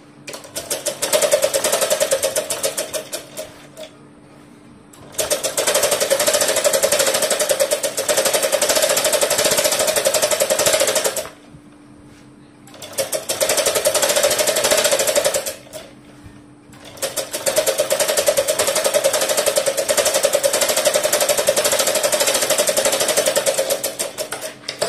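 A sewing machine stitching a long frock sewn from an old saree runs in long, loud, rapid mechanical bursts of needle chatter, stopping briefly three times for quiet pauses before starting up again close by.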